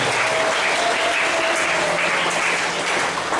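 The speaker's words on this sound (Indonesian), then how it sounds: "kita beri aplaus untuk mereka" A congregation's steady, full applause for the choir and musicians at a Christmas Eve Mass at St. Yusuf Purwobinangun church, a brief unbroken burst of clapping.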